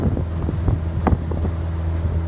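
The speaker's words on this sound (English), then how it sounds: "The boat actually performs quite well with only having a 25 horse." A 25 horsepower outboard on a 2000 Bennington 22-foot pontoon boat hums steadily, a low constant drone close by with wind rumbling across the microphone and a few brief knocks.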